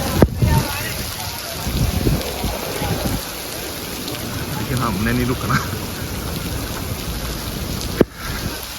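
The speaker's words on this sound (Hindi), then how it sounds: "बारिश तेज़ हो रही है" Heavy rain pours steadily outdoors near a hotel tower in Makkah, a dense constant hiss throughout, with someone talking over it and a sharp knock near the end.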